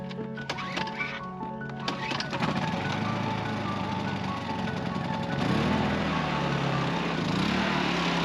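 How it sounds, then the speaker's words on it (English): A generator engine cranks and catches, then settles into a steady droning hum that grows louder and continues without a break. "I heard the generator start"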